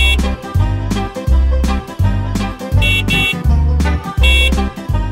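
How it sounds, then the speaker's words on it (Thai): A bus horn honks in a children's nursery rhyme, repeated toots falling in a bouncy rhythm over loud, steady music. "แตรของรถเมล์ดังปรีนปรีนปรีน ไปตลอดทาง"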